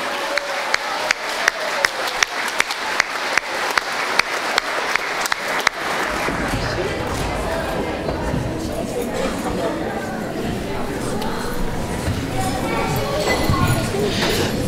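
Scattered individual claps build at first, then an audience at a middle school spring concert breaks into full, dense applause for the 7th and 8th grade band, swelling slightly toward the end with cheers and chatter underneath.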